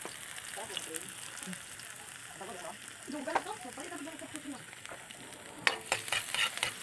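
Pancit noodles fry and sizzle in a pan with steady crackle, stirred now and then with scraping clinks, the clatter sharpening near the end, while a voice talks softly underneath.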